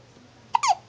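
A baby hiccups twice in quick succession, two brief, squeaky little catches heard close and fairly quiet against a low background hum.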